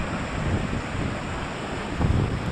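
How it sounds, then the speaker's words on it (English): Strong wind roars and buffets the microphone on an exposed, rain-soaked hiking path along the Cumbria Way, a loud, steady rush with a harder gust near the end and no voices. "You probably won't even be able to hear us, it's that windy"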